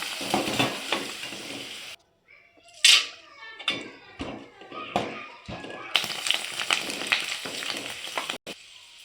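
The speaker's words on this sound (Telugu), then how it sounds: "అందుకే కొన్ని పాపడాలు కూడా వేయిస్తున్నాం." Papad crackle and sizzle as they fry in hot oil, with bursts of bubbling broken by a short quiet gap and some stirring taps.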